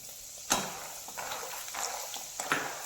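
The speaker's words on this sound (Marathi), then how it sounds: "आता यामध्ये शेंगदाणे आपल्याला तळून घ्यायचे आहेत" Peanuts frying in hot oil over a medium flame, a soft steady sizzle with a few sharper stirring scrapes and clinks rising above it, close and fairly quiet.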